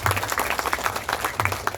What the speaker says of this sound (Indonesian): Kita berikan tepuk tangan dan apresiasi kepada mereka.